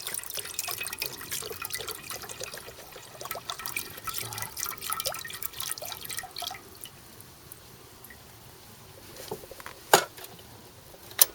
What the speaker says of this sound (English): we pour the apple juice into the pan